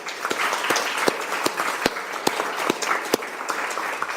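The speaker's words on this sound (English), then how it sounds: "can we give Coach Holscher a round of applause" Applause at a school board of education meeting for a coach, a modest group clapping with distinct individual claps standing out over a steady bed, moderately near.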